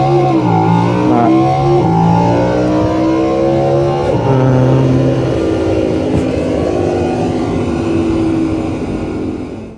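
An Audi R8 engine revs loudly and close, its tone climbing through strong rising harmonics, dipping and climbing again before settling into a sustained high roar that eases slightly at the end.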